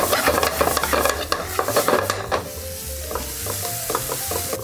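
Onions stir-fry over medium-high heat, kept slightly crisp, with a steady sizzle and repeated scraping, tapping strokes of a utensil against the pan, close and fairly loud.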